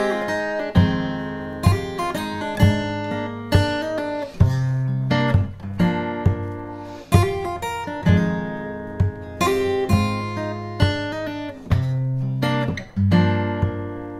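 Guitar plays the B-section of a song, with close, clear plucked notes and chords in a steady, repeating rhythm and no talking.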